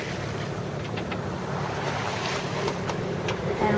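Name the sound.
sailboat motor sailing through swell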